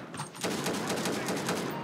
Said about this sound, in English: Oh, shots fired! Shots fired.